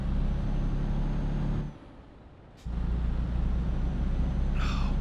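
A truck in the Euro Truck Simulator 2 driving game gives a steady loud engine drone that drops away for about a second, then resumes, with a short hiss near the end.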